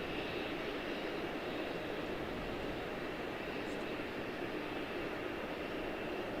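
Heavy jet airliners spool up their engines at Charlotte airport, a steady, broad roar held at a constant level throughout, fairly distant and without voices.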